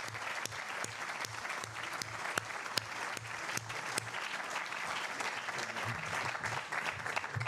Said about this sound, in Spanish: pedirle un gran aplauso a Antonio